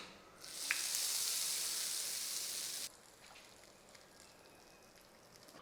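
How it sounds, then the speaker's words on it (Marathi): A loud hiss of hot oil and spices sizzling as the tempering is poured onto coconut chutney, lasting a couple of seconds before cutting off to a faint background. "आता ही फोडणी चटणीवर होतो"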